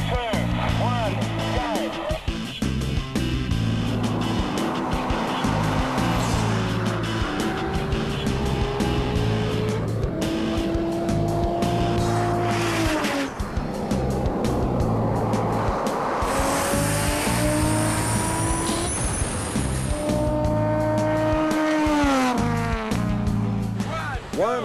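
Rally cars launch from a standing start on an 800-metre sprint stage, engines revving hard through repeated rising gear changes, tyres squealing, loud and close, with a commentator talking throughout.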